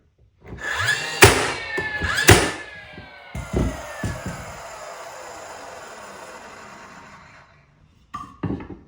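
A Dewalt cordless 15 gauge finish nailer fires, giving two loud, sharp snaps with ringing tails, then a few lighter knocks and a steady fading hum, close and without talk.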